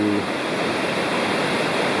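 Big Creek flowing near Midnight Hole in the Great Smoky Mountains, a steady, full rush of creek water that holds evenly throughout, close and continuous with no voices over it.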